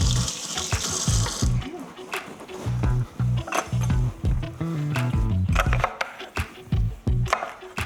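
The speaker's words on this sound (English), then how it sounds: "And I'm going to rinse it because it's a little sticky." Tap water runs into a kitchen sink while tomatillos are rinsed under it, an uneven splashing stream broken by bumps and knocks of handling. Faint voices are present.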